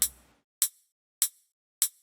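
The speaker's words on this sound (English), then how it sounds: "Then I have a hi-hat." Three short, bright hi-hat ticks sound at an even pace, thin and metallic, separated by silence after a fading earlier hit.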